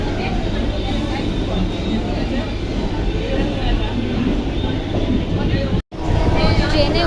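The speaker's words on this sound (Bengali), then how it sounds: "আমাদের ট্রেনটা ছেড়ে দিয়েছে" A passenger train running at speed on its way to Bangalore, heard from inside the carriage as a loud, steady rumble and rattle that fills the whole clip, with one brief dropout near the end.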